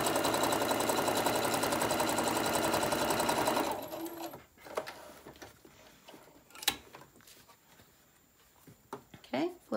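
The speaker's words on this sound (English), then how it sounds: "then I'm gonna sew the other side, and my straps will be ready to sew into our tote" Sewing machine stitching the straps for a lunch tote bag, a dense rapid whirring run for several seconds that stops abruptly, followed by quieter handling clicks and rustles.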